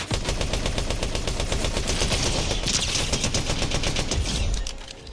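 Rapid automatic gunfire from a Fortnite match rattles continuously at close range, dense bursts of shots packed together for about four and a half seconds before dropping off to quieter fire at the end.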